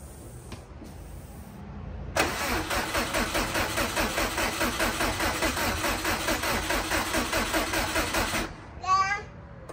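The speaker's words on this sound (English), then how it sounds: "We know we have power to the starter and all that, because it's cranking at least." A Subaru Impreza bugeye with a swapped STI engine cranks over on its starter for about six seconds without catching, a rhythmic, pulsing whir, followed by a few faint clicks and chirps once it stops.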